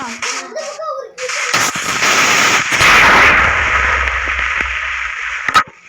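A blast in the Minecraft video game goes off at a cave camp, a sudden broad boom with a rumbling tail lasting a few seconds, then a sharp pop near the end; a voice is heard briefly before it.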